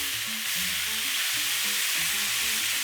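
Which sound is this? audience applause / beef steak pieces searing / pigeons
beef steak pieces searing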